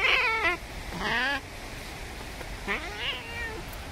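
A cat meows loudly several times in drawn-out, complaining cries, close by, over faint outdoor background noise, near the Tashiro Nanatsugama waterfalls in Niigata, Japan.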